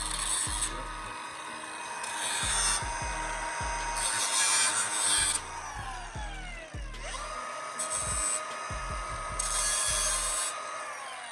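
Parts of a fan and shortened radiator setup being cut and trimmed to fit during a C6 Corvette turbo build, heard as steady rasping, sawing strokes with rhythmic thumps, close and fairly loud, with no talk.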